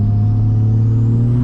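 A 2nd gen truck with a swapped-in 700hp big turbo Cummins engine accelerates, filling the cab with a loud, constant low rumble and drone throughout.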